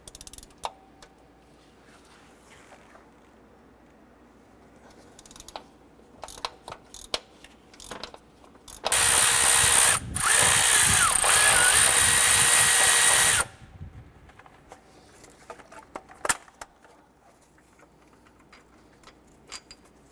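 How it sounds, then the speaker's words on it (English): A power tool drives a 17 mm shallow socket on an extension to loosen the starter bolt of a 2008-2012 Honda Accord, a few short whirs and clicks leading into a loud sustained whine, briefly interrupted, before scattered handling clicks. "I'm gonna use our 17 millimeter shallow socket and extension to loosen and remove the starter bolt"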